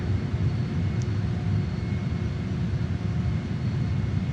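Steady, loud jet engine roar of a JAS-39 Gripen in a flight simulator game with the air brake deployed and throttle back, a constant low rumble and whoosh without variation.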